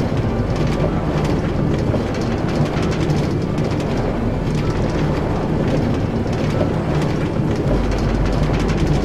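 Train running in the Minecraft Traincarts plugin, a high-speed metro line in the video game: a steady, continuous rumble with rolling rail noise holds at constant loudness for the whole stretch, with no talk over it.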